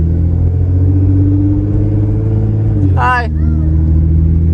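Supercar engine rumbling, a loud continuous low idle drone with steady harmonic hum from start to finish, while a voice speaks briefly over it.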